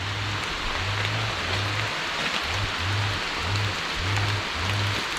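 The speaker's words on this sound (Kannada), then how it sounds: "ನೋಡಿ ಮಳೆ ಸ್ಟಾರ್ಟ್ ಆಗಿದೆ ಈಗ, ಸ್ವಲ್ಪ ಜೋರು ಸ್ಟಾರ್ಟ್ ಆಯ್ತು ಈಗ ಮಳೆ" Heavy rain pours down on an arecanut plantation in a steady, dense hiss, with a low droning hum pulsing on and off underneath.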